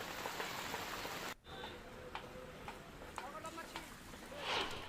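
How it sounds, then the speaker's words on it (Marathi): Heavy rain patters steadily on a surface in waterlogged Bhiwandi, fairly quiet, with a few faint distant voices and knocks mixed into the wash of drops. "कधी पाऊस मुसळधार पडतो, कधी कमी होतो, पण पाणी मात्र साचून राहत आहे।"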